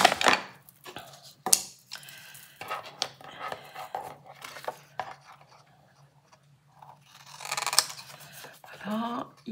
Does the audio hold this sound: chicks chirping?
no